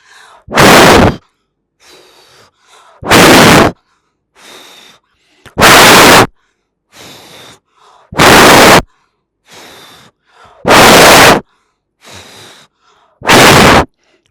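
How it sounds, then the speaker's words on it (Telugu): Yoga breathing practice: six loud, forceful exhalations through the mouth, evenly spaced roughly every two and a half seconds, with softer inhalations through the nose in between, heard close up. "ముక్కు నుండి శ్వాస తీసుకుంటూ నోటి నుండి శ్వాస వదిలేస్తూ"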